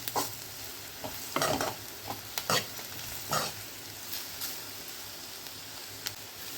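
Carrot, beetroot and capsicum fry being stirred in a pan with peanut powder, roasted gram and dry coconut powder, the spoon scraping in uneven bursts over a quiet, low sizzle.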